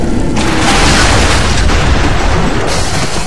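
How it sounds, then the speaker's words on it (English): An oxygen tank blows up in BioShock with a loud, close, roaring blast that fills the whole moment as one continuous rumbling explosion. "You have to make sure to melt the ice and not the tanks, otherwise it'll blow up."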